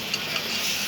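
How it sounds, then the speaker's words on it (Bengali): Food stirred gently in a pan over a low gas flame, a soft continuous scraping and sizzling hiss up close with faint light ticks, no voices. "তো আমি আলতোভাবে আবারও নাড়াচাড়া করব।"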